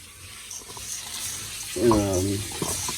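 Running tap water rinsing split peas in a kitchen, a steady close gush that swells and splashes louder midway, with someone speaking over it.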